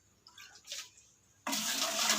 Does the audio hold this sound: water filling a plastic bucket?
yes